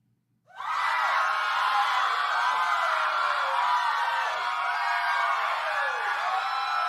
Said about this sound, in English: This is a long cheering.